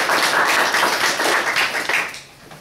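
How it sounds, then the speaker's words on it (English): An audience gives a warm round of applause: dense, continuous clapping that holds steady, then fades away toward the end. "warm round of applause"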